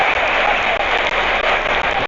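A stadium crowd at a football match roars and cheers in a dense, continuous wash of noise, loud and close, with brief dips but no clear break.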